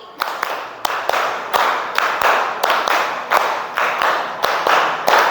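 Schoolchildren in a third-grade classroom clap hands together in a steady rhythm, loud, sharp claps repeating roughly every half second with a small group's slightly uneven timing.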